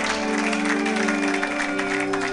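Church congregation applauding and cheering together at a worship service, a dense steady wash of clapping and voices with sustained music tones underneath, loud and continuous throughout.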